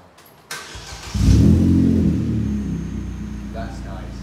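A Vauxhall Astra H 1.6 with a Sportex cat-back exhaust starts up and then revs once into a deep, loud rumble. The rumble settles to a steady idle, close by and with no talking over it.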